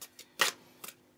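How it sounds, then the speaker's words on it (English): A few quiet, papery riffles of cards being shuffled, short soft bursts separated by brief pauses, close and faint. "I'm going to keep the cards in front here so you see me shuffling"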